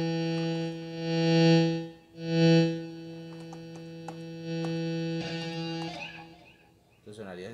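A sustained synth-like tone from a You Rock Guitar MIDI guitar swells and pulses with a wobbling modulation effect, then turns brighter and more distorted near the end.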